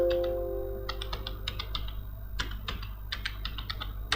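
Rapid keystrokes clatter on a computer keyboard at close range, coming in irregular bursts and short runs against a steady low hum, with no voices.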